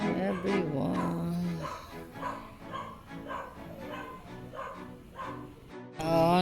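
A dog barks and growls in agitated, repeated bursts close by, mixed with a voice talking over it in a home setting during the evening.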